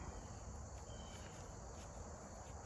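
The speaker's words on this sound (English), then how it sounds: "Just playing with a cricket." Cricket chirping outdoors in a steady, continuous high trill, close and fairly loud over a low background hum, with no other sounds or talk.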